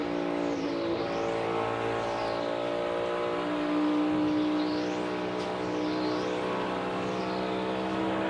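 A NASCAR Cup Series race car at practice in Miami, its engine droning loud and steady at high revs with faint sweeping pitch shifts as it laps, no voices.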